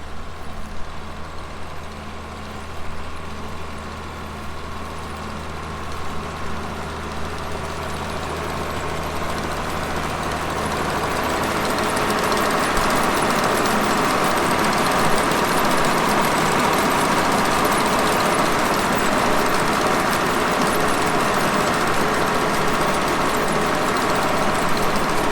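The engine of a French-made lavender harvester idles steadily in a field, a continuous low rumble that grows slightly louder and fuller partway through and then holds even.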